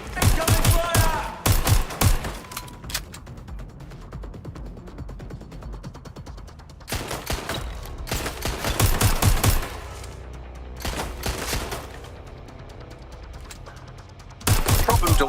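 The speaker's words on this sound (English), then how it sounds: "Shoot! Incoming fire!" Bursts of automatic gunfire from a Watch Dogs Legion shootout: loud, dense volleys in several separate clusters with brief gaps, a short final burst at the end, and some mechanical clatter in between.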